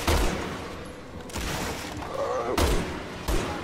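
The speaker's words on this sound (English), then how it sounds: "I'm shooting him in the head." Gunfire in the video game Resident Evil 6 as a player shoots at a monster: heavy booming shots and rumbling impacts close together, with a loud continuous game soundscape between them.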